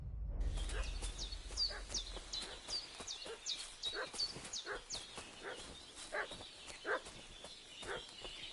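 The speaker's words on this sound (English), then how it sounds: "What's that dog making such a fuss about?" A dog barks repeatedly in Kingdom Come: Deliverance II, a steady run of sharp yelps at moderate distance over a low outdoor ambience with faint bird calls.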